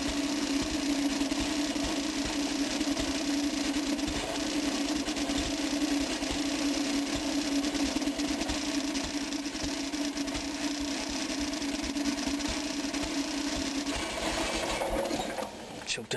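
A small Onan engine runs steadily throughout while its carburetor is adjusted, a continuous close mechanical drone with a strong steady hum, holding an even pitch before easing slightly near the end.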